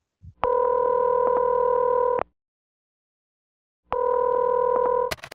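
Telephone call being placed: a loud tonal ring signal plays twice, each burst lasting about two seconds and separated by a silent gap, with a short click at the end.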